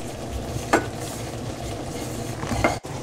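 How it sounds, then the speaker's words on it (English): Flour being stirred into melted butter in a pan for a white sauce: a soft, continuous sizzle with a couple of brief scraping strokes of the utensil, close and quiet. "Stir until the flour is all absorbed by the butter"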